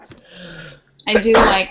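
A single sharp, loud sneeze bursts out right after a brief stretch of a person talking, close to the microphone.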